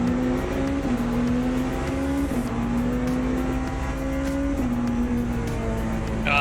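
A race car engine in the Le Mans Ultimate sim racing game at Bahrain, during a multiclass race, holds a loud, steady high-revving drone with brief gear-shift dips and another car's engine close by.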